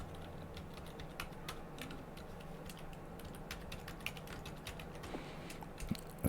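Fast, steady typing on a computer keyboard, dense clicking keystrokes close to the mic with a few louder taps near the end, no talking.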